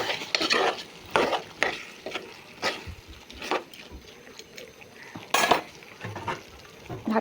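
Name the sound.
stirring prawns frying in a pan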